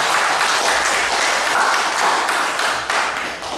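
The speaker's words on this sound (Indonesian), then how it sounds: "Kita beri aplaus pertama." An audience at an evening family gathering claps loudly and steadily together for several seconds, a dense, continuous burst of applause that tapers slightly at the end.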